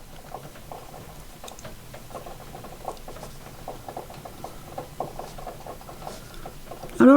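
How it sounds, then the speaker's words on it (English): Torrential August rain drums steadily on a roof or window, a dense continuous patter with scattered louder drops and no talking. "I don't know if you can hear that rain."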